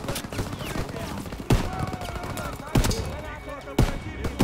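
Gunfire in Call of Duty: WW2 on PC: loud single shots land roughly a second apart over a dense, continuous wash of battle noise, with some voices mixed into the din.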